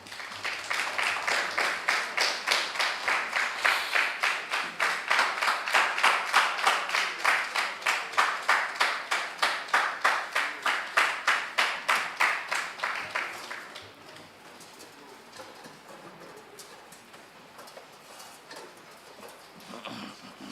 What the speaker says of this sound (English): join me with a round of applause as I welcome contestants from both schools to join me upstage